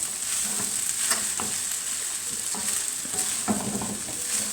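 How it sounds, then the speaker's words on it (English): Rice being mixed in a pan: a soft, steady sizzle with repeated light scraping and tapping of a spoon against the pan, close and alone, with no talk. "So as we had another spoon of rice, you just mix it all in."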